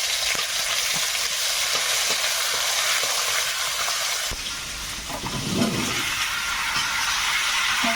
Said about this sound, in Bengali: তেলে একটু পাঁচ ফোড়ন দেবো তেজপাতা বাটা